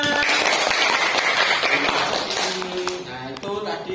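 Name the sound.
applause, class clapping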